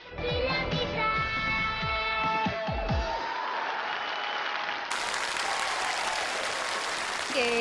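Studio audience on a Chinese television variety show bursts into sustained applause mixed with crowd noise, the clapping continuing steadily while music and voices fade out beneath it.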